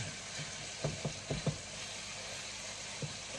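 Beef pieces frying in oil in a pan over a lowered flame, a constant sizzle with a quick cluster of utensil scrapes and clicks from stirring, then one more later.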